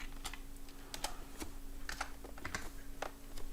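Typing on a computer keyboard: quick, irregular key clicks close up over a faint steady hum, with no voices.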